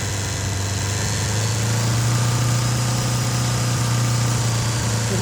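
A 1977 Honda GL1000 Goldwing motorcycle engine is held at a raised rev, a loud, steady, close drone with a strong low hum that continues unbroken.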